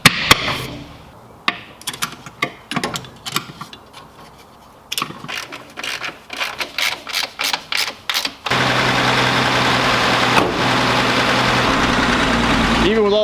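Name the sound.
old car engine idling after tune-up, running Seafoam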